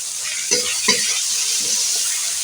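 Spices frying with chili and turmeric powder for an ash gourd (chhanchi kumro) curry, a steady close sizzle with two louder stirring scrapes early on and softer stirring later.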